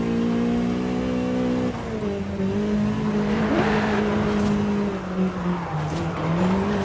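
A Toyota AE86 in Forza Horizon 5 revs hard with a buzzy, climbing engine note that drops and shifts, joined by squealing tires as it drifts, loud and close throughout.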